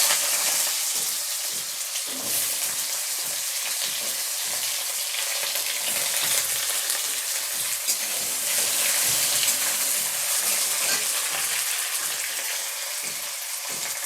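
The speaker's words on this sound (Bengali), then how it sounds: "প্রথমে আমি আলুটা হালকা ভেজে নেব।" Potatoes frying in mustard oil in a wok, a steady, loud sizzle and crackle that holds evenly throughout with no talking.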